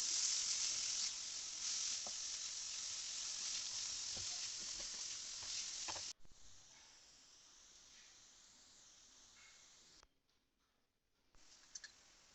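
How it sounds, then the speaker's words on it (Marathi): A spoonful of chopped onion fries in hot oil for an eggplant bharit, making a loud, steady hiss that drops to a quieter sizzle halfway through, then briefly cuts out before resuming. "त्यावर तेल टाकलंय एक चमचा कांदा टाकलाय परतून घ्यायचा आहे"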